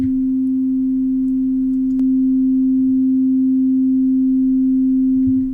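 A pure sine test tone passed through a modeled compressor, a steady, unwavering single pitch held loud and alone for the whole stretch, with only a faint click partway through.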